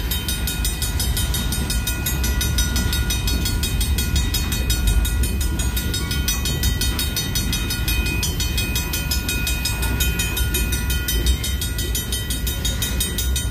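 A BNSF freight train made up of tank cars and box cars rolls past nearby, a loud, unbroken rumble and rail roar that holds steady throughout, with no voices.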